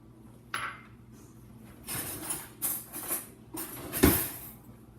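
Baking soda and sugar being stirred together in a bowl, a few soft scraping and clinking strokes of a utensil against the dish, close and fairly quiet.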